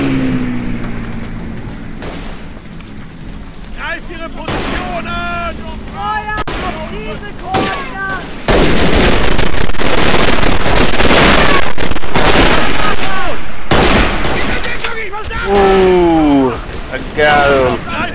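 Rifle fire and battle noise in the World War I shooter Verdun on the Flanders map: sharp broadband cracks ring out among loud explosions and rumbling, with people talking over the din.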